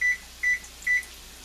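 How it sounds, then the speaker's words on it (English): A kitchen timer beeps three times in a steady rhythm, each tone short and clear, while someone cooks garam masala chickpea burgers; the room is otherwise quiet with faint background hum. "And I'm going to set the timer for"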